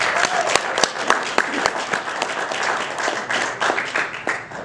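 Steady applause from an indoor crowd, with dense clapping and sharp individual claps standing out, continuing at a fairly even level throughout with no pauses.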